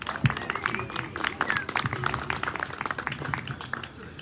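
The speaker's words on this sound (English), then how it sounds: "Let's give him a round of applause." A small audience at a community awards event gives a round of applause, scattered claps mixed with crowd murmur and a few voices throughout.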